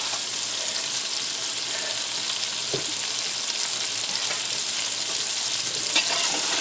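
A pot roast sears in oil and butter in a pan, giving a steady, loud, dense sizzle with an occasional faint tap or clatter and no voices.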